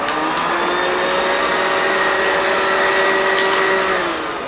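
A Roomba robot vacuum cleaner runs steadily and close by, giving a continuous motor whine with a brush hum that stays level throughout and eases off slightly at the end.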